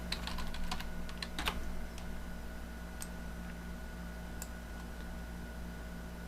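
Computer keyboard typing in quick bursts of clicks over the first two seconds, then scattered single keystrokes over a steady electrical hum, with no voices.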